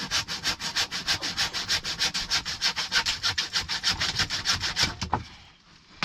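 Wood being sawn to cut off a bad end for bed building: fast, even back-and-forth strokes, close and loud, about five per second, then stopping abruptly with a final scrape; no speech.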